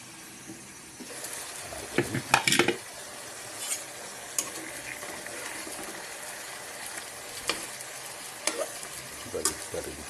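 Marinated chicken adobo sizzles in a pan under repeated spatula strokes and clinks, a steady frying hiss broken by sharp scraping bursts, close and moderately loud, no speech.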